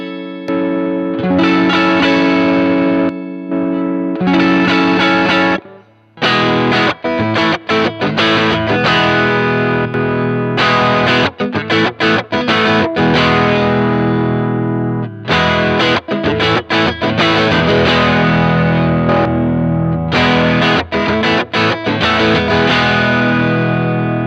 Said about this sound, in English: The Wampler just has this more hi-fi, higher clarity sound.